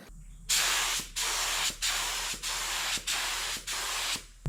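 A paint spray gun being flushed with mineral spirits fires about six loud, even bursts of hissing spray, each separated by a brief pause.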